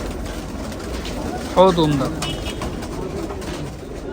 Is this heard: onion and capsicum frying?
no